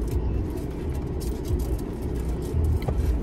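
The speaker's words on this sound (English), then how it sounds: "Sorry, y'all, if it's too loud, the AC." A loud air conditioner runs indoors, a continuous low rumbling hum with broadband hiss that stays steady throughout, with no voices on top.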